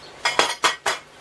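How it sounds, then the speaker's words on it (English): Metal spoon scrapes and clinks against a pan as grated cheese is stirred through Tex Mex spaghetti, four quick close strokes with no talking. "First, stir"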